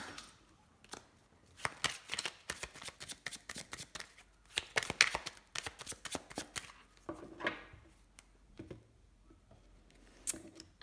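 Tarot cards are cut and shuffled by hand, a long run of crisp riffling flicks and slaps in irregular bursts, close-up and moderately quiet, with no speech.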